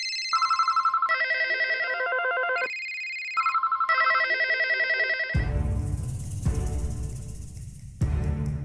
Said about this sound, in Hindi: और बस उसी वक्त उनके पास आता है एक फोन।